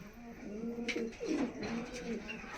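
Allahabadi domestic pigeons coo in a bird loft, giving a steady run of soft, throaty, rolling coos that overlap one another at close range, with faint bird chirps above them.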